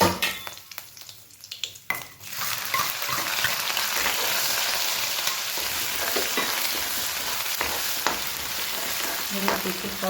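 Green chillies and curry leaves sizzle and spit in hot oil, a loud, steady frying hiss that flares up after a quiet start and keeps crackling close up, with occasional stirring.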